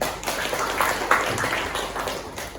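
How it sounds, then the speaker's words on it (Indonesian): Applause from students in a vocational high school classroom during a business communication lesson: a short burst of scattered clapping that swells and fades over a couple of seconds, with a little background chatter. "Tepuk tangan dong untuk Fahri."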